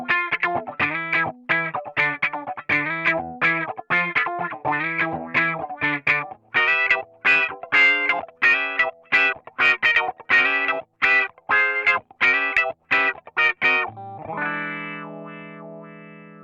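An electric guitar played through a wah pedal effect, with distorted, sweeping strummed chords in a steady driving rhythm, close and loud, ending on a sustained ringing chord.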